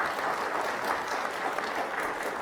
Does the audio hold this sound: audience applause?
yes